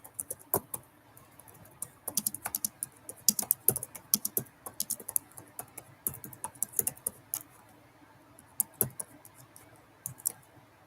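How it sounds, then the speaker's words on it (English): Rapid bursts of typing on a computer keyboard, with uneven clusters of close, crisp key clicks and brief pauses between them, heard alone in a quiet room. "Just a second, I'll type that out."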